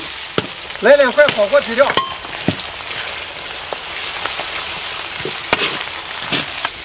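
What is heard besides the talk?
stir-frying scallion, ginger, garlic and bean paste in oil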